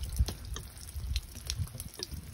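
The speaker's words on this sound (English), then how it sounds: "first things, Mom, is emptying the water out of the camper" Water drains from a camper's water heater while it is being winterized, heard as irregular close splashes and drips with a few sharper spatters over a soft watery background.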